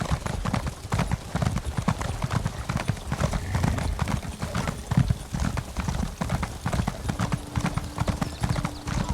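Steady clip-clop of a horse galloping in The Elder Scrolls Online, hoofbeats fast and continuous throughout with a brief held tone near the end.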